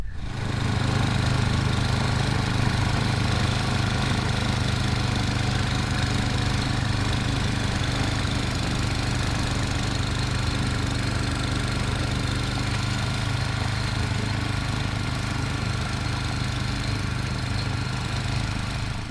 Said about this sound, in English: Something wrong with the snow blower.